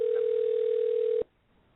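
A telephone ringback tone on a call during a radio show: one loud, steady electronic tone holds for just over a second, then cuts off abruptly into near silence.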